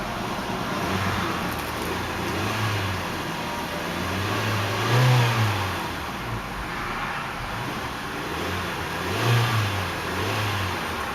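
A 2010 Hyundai Elantra Touring SE engine revs up and settles in a steady loop, several low swells rising over a continuous idle hum, close and alone with no talking.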